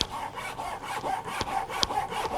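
A hand saw cuts through wood for a school woodworking homework project, with rhythmic back-and-forth rasping strokes at close range and occasional sharper scrapes, no voices.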